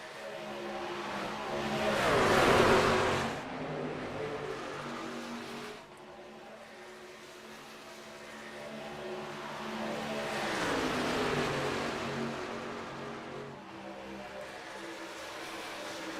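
Race trucks in an iRacing sim event at Atlanta roar around the track as the leaders close on lapped traffic, engine drone rising and falling with passes near 2 and 11 seconds, continuous throughout.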